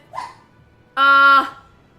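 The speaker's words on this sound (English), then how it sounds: "my dogs are barking" A dog gives a short yelp and then a single sustained, tonal bark or howl-like cry lasting about half a second, fairly close, with no talking over it.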